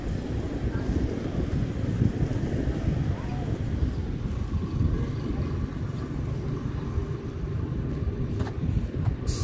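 Steady low engine rumble with wind buffeting the microphone, a sea ferry underway at sea off Dumaguete, continuous and fairly loud throughout.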